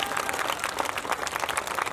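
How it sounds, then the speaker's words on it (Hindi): An audience at a grand poetry gathering in Mira-Bhayandar claps steadily, a dense, even patter of many hands sustained for the full two seconds. "मेरे सम्मान में भी एक बार जोरदार तालियां बजा दें।"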